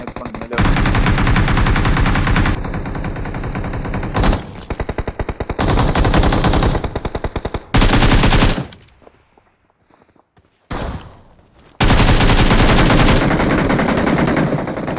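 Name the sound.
gunfire in a shooting video game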